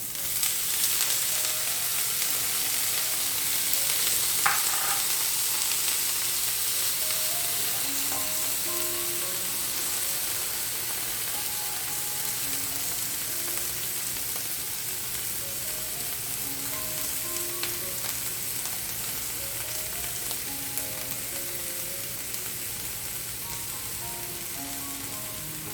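Green peppers sauté in a hot pan for a succotash with okra, giving a steady, even sizzle with soft crackles that runs unbroken at moderate loudness, with no voices.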